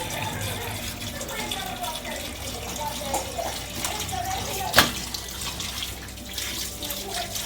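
Tap water runs steadily as raw fish is rinsed at a sink for a home fish fry, a continuous close splashing stream with one sharp brief clatter midway and people talking over it.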